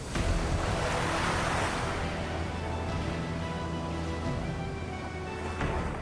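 Sea waves washing steadily onto the shore, a continuous loud surf roar with some wind, heard without talk.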